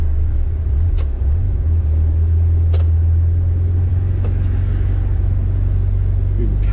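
Renault R8 engine with a modern ignition conversion idles steadily after its idle speed is nudged up, a loud, even low rumble with a few brief clicks and knocks on top.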